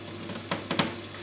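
Sauce for Ghanaian jollof rice with goat meat cooks in a pot, a low steady sizzle broken by a few sharp stirring scrapes near the middle.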